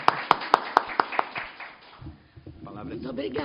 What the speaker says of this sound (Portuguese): aplausos de boas-vindas a Regina Teixeira da Costa